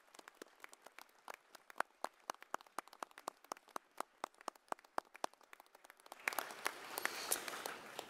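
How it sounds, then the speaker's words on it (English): Graduates stand and applaud at a Massey University graduation ceremony in Manawatū, sparse and distinct claps at first that swell into fuller, denser applause near the end, with no talking. "I'll ask graduates to stand to applaud those on the stage"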